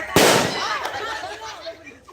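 A firecracker set off at a Kali Puja celebration under a banyan tree bursts in a single sharp, loud bang near the start, with reverberating crackle and chatter trailing after it.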